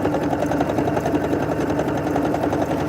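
A Singer sewing machine runs steadily, stitching a small card holder with a tight stitch-length setting, a fast even mechanical whir with rapid needle ticking, loud and close, and no speech.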